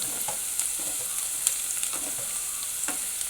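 Food wilting in a pan on raised heat, frying and stirred: a continuous hiss of sizzling oil with light scrapes and taps of the spoon, steady and close, no speech.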